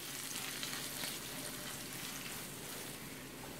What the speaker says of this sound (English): And you just want to brown this beef up.